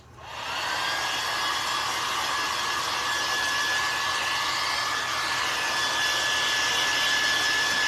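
A hair dryer blows on a painted snowman craft, a steady, loud broadband whoosh with a faint high whine that starts abruptly and holds unbroken throughout, with no talking.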